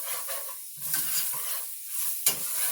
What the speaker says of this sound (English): We're going to keep on stirring it